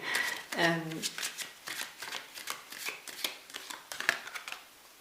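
Oracle cards being shuffled by hand before a reading, a quick run of crisp riffling flicks and soft slaps, fairly close, continuing through the whole stretch with a brief voice near the start.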